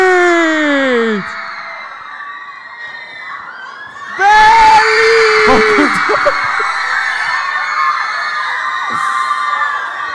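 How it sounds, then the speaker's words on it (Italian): A large arena crowd at the Mediolanum Forum in Milan, at a live show with many children present, erupts into loud sustained cheering, screaming and whooping after an announcer's amplified voice. "Voglio un'ovazione immensa!"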